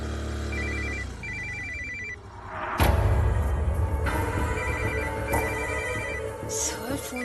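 An incoming call sets a telephone ringing in a shopping mall office, in two clusters of bright repeated trills separated by a loud whooshing swell, with music underneath.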